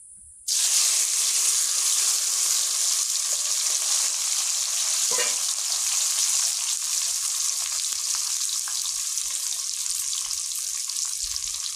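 Onion frying in hot oil in a pan, where potatoes were fried just before, bursts into a loud, steady hiss and crackle that holds evenly throughout, with no voices.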